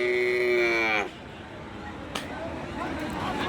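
A bullock at a crowded cattle market gives a loud, close, drawn-out moo lasting about a second, then the murmur and bustle of the market carries on.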